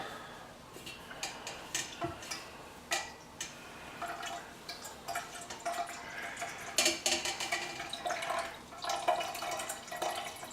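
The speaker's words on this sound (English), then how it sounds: "Twist and begin wringing out the mushroom ketchup" Mushroom ketchup is wrung through butter muslin, giving a close run of wet drips and splatters with small ticking taps, irregular and fairly quiet, with no voices.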